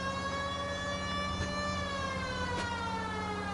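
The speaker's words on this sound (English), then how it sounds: "Just because there's a police siren." A steady wailing police siren in the video game L.A. Noire holds a long drawn-out tone, slowly falling in pitch, loud and continuous throughout.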